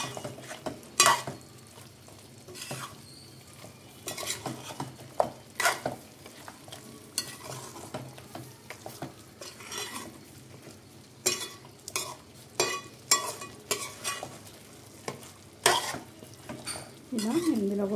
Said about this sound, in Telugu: మసాలా పేస్ట్ మొత్తం దీనికి పట్టేలాగా కలుపుకుందాం